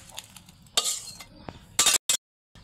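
Meat poured into a pot of boiling rice for khichuri, with bursts of clinking and stirring from a spoon against the pot over a soft sizzle, then a couple of sharp scraping clatters near the end.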